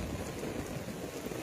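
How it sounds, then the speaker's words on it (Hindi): Heavy rain pours steadily, a dense, constant roar of drops with no voices and no breaks. "बड़ी तेज बारिश हो रही है"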